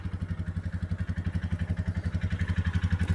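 A Royal Enfield motorcycle engine idles close by in cold weather with an uneven, stumbling beat, its rhythmic thumps faltering as it misfires.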